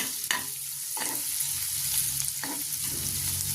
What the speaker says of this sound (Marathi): कांदा छान परतवून घेत आहोत.